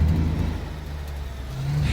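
A truck engine runs steadily in the video game Alaskan Road Truckers, a continuous low rumble with a slight rise in revs near the end, heard alone.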